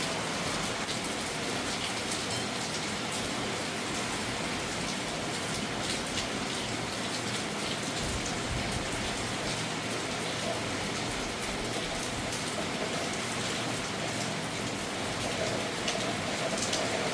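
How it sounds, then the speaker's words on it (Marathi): Steady rain falls continuously for well over fifteen seconds, a dense, even hiss of drops striking surfaces close by, with no voices over it. "तोपर्यंत जरा पाऊस पण कमी आहे"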